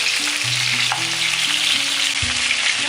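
Pieces of pointed gourd (potol) fry in oil in a pan with a loud, steady, close sizzle. Low tonal hums and tones run beneath it, and no one speaks.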